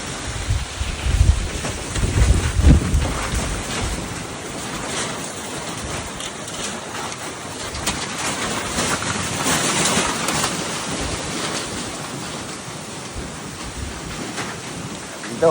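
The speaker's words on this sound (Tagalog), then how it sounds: "Ngayon, ang landfall ng bagyo dito sa amin." Typhoon Tino makes landfall with strong gusting wind buffeting the microphone and heavy rain roaring steadily, loudest in the first few seconds, then a sustained stormy wash.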